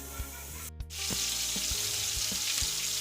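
Prawns frying in a pan begin with a short gap, then a loud, dense hiss of hot oil builds and holds, with a few low knocks spaced through the steady sizzle.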